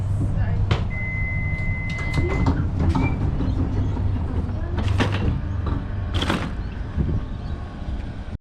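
Inside a Melbourne suburban train in motion, a steady low rumble and rolling hum fills the ride, with brief higher squeals and rattles from the carriage, continuous and close.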